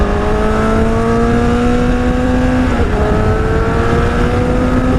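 A motorcycle fitted with an aftermarket exhaust revs high and holds a loud, steady engine whine that climbs in pitch. It dips briefly around the middle, then pulls back up under constant wind noise.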